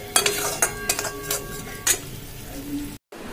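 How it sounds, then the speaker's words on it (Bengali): Spice paste sautés in oil for a doi katla fish curry, a low sizzle under a few metallic spatula clinks and stirring scrapes close by, with no voices. "এবার এটা সাঁতলে নেব যতক্ষণ না তেলটা ছাড়ছে।"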